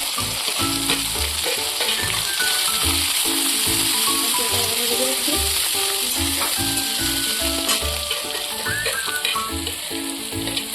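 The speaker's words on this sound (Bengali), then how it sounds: "পেঁয়াজটাকে ভালো করে ভেজে নেবো।" Chopped onions fry in a pan with a steady loud sizzle, broken by repeated scraping and stirring clatter throughout, with no voices.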